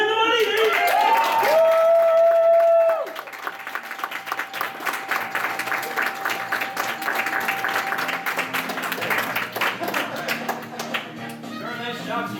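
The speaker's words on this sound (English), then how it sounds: "Round of applause one more time." Audience applause and clapping fill a room at an anime convention game show after a contestant wins cash. The applause starts after a short burst of noise and continues steadily, with faint voices mixed in.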